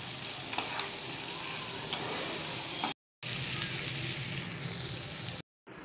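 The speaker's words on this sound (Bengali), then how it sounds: "এখন আমি এটাকে ভালো করে কষিয়ে নিই।" Dried lotka fish stirred and fried in a pan: a steady close sizzle with scraping stirs, cut by two short silent gaps, and no voices.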